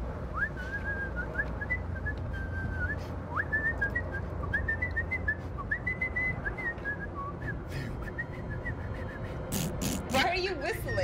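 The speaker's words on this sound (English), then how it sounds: "Why are you whistling?" Someone whistles a wandering, tuneless melody for several seconds over steady background noise and chatter, ending with a few sharp clicks.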